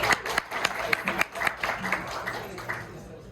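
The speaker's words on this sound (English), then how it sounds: "Everybody here today, give yourself a round of applause for being here." Small indoor crowd at a Transgender Remembrance Day tribute gathering clapping, scattered distinct hand claps close by that thin out over a few seconds, with voices mixed in underneath.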